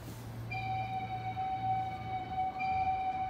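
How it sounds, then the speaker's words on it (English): A zoo railroad train arrives, sounding a long steady horn tone over a low rumbling background; the horn holds for several seconds, then briefly shifts, heard from a moderate distance with no talking. "And here comes the train."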